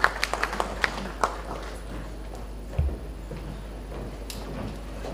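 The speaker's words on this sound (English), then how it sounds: "Give him a big round of applause as he comes" A formal evening audience claps for an arriving guest, a sparse scattering of individual claps at first that thins into faint, light applause over a steady low hum.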